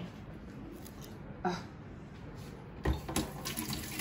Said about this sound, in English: so I'm gonna wash this spoon that I had my thingy-my-bob on